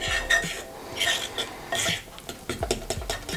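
A whisk beats dry ingredients into banana donut batter in a bowl, in quick bursts of close scraping and tapping against the side, with brief pauses between strokes.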